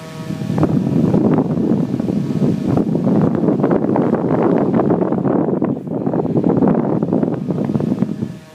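A Delta EFB1212HH computer fan runs close by, giving a loud, steady rushing whoosh of air that holds for the whole stretch, with slight wavering and a brief drop near the middle.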